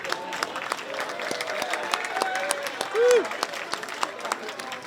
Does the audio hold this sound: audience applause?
yes